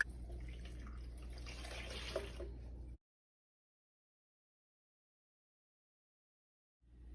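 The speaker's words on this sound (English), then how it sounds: "Gonna fill some water." Tap water runs steadily into a glass or bottle for about three seconds, a close, continuous trickling pour that stops abruptly into silence before a faint sound returns near the end.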